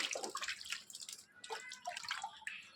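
Cold water drawn from a tank splashes and pours in quick, irregular bursts as someone bathes, close and fairly quiet, with no talking.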